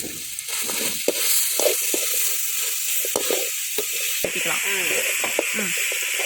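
Goat meat curry frying with masala in a pan, a continuous bright sizzle with repeated spoon scrapes and stirring knocks close by, and faint voices murmuring underneath.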